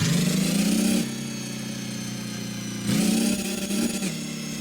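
A 750 HP V12 gasoline engine in a video game drones steadily, its pitch stepping up twice as it revs higher, then settling back to a constant hum.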